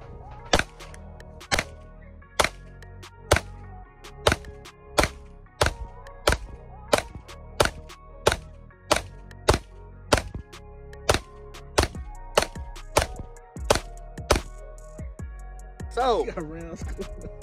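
A pistol fires a rapid string of about twenty sharp, evenly spaced shots from a 20-round Shield Arms Gen3 magazine, each report cracking out loud and close, followed by a brief rising voice after the last shot.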